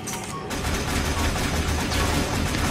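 Rapid gunfire from a Warframe shooter game, a dense, continuous burst of loud shots filling the whole clip after a brief quieter opening, with no talk over it.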